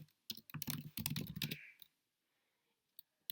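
Fast burst of clicky computer keyboard typing, close and fairly quiet, a rapid cluster of keystrokes lasting about a second and a half, followed by near silence and a couple of isolated key taps.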